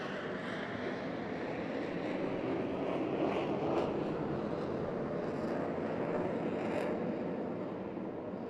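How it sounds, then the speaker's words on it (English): Two jet airplanes at an airshow over Pensacola Beach roar into full afterburner, a dense, steady broadband rumble with a windy hiss that holds loud and unbroken throughout, with no voices. "you'll hear both airplanes go into full afterburner"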